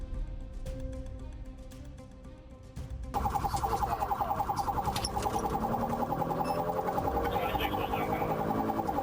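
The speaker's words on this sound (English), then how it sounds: "The officer lit up his sirens" A police siren wails continuously after a brief lower-pitched stretch, sounding somewhat distant and steady.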